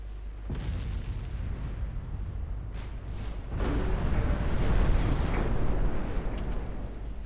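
Torpedo hits on World War I-era warships in a naval battle game, heavy booming explosions with a deep rumbling blast swelling midway and lingering low roar, no voices.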